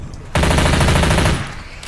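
Automatic gunfire from a gun in Left 4 Dead: a single loud, rapid burst lasting about a second, with dense evenly spaced shots, then it cuts off.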